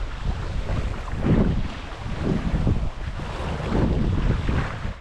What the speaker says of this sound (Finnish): Tuuli kyllä on kova.